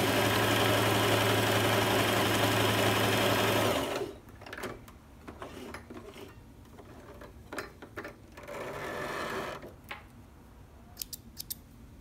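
A sewing machine stitches knit fabric in one steady, loud run for a few seconds, then stops, leaving quieter handling clicks, rustles and a short low hum near the end.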